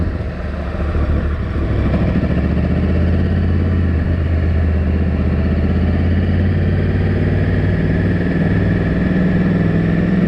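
A new motorcycle's engine runs steadily at idle during break-in, a loud, continuous low rumble that stays even throughout with no voices.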